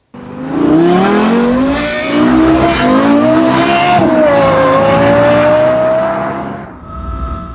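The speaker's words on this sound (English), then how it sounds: "the jaw-dropping noises of the best-sounding engine ever installed in any car before or since" A Lexus LFA's high-revving engine screams loudly, its pitch climbing and wavering over several seconds before cutting off abruptly.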